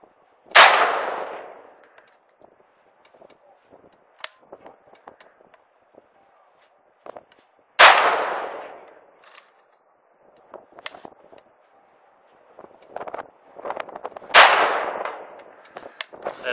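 Three loud gunshots from a Saiga 5.45x39 rifle fired with iron sights at a target 160 yards away, each a sharp blast with a ringing decay, spaced several seconds apart, with small clicks and handling noises between them.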